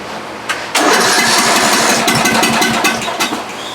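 A lawn tractor engine, just back from a carburetor repair, cranks briefly and then catches, running loud and steady close by with a rough, uneven idle and no talking.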